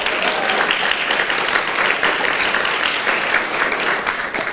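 Sustained applause from a conference audience at a game festival's microtalk session, steady dense clapping throughout with no speech over it.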